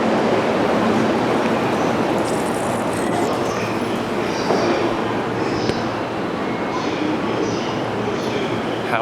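A train at a Tokyo station, its steady broadband rumble and rolling noise filling the whole stretch at close range, with faint, indistinct voices mixed into the din.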